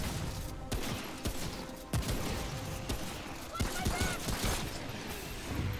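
Gunfire in the video game Remnant, with repeated sharp shots scattered through a busy, dense game mix while players talk over it.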